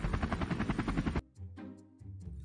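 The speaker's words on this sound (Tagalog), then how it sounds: "Di mo talaga may iwasan tumingin sa langit pag may dumadaang helicopter." A cartoon helicopter passes overhead in an animated scene, its loud, rapid rotor chop thudding steadily for about a second before cutting off abruptly, leaving quieter low tones and faint sounds.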